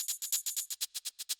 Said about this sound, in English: After that, we have the shaker and tambourine.